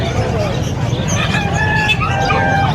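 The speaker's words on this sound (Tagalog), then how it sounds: "may mga native na manok naman si kuya" Native chickens at a busy livestock and pets market cluck and crow loudly and close, with several birds calling over one another in a steady stream against crowd noise and faint voices.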